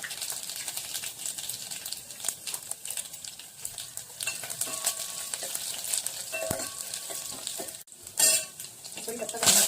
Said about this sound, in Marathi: फोडणीमध्ये आपण आता मोहरी घालूया, जिरे घालूया। मोहरी छान तडतडते